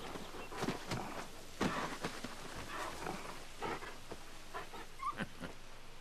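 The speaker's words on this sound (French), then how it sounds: "Ça, c'est vraiment un bon chien." A dog in the video game Final Fantasy XVI whimpers and yips with soft, scattered sounds and a few sharper bursts over a steady background ambience.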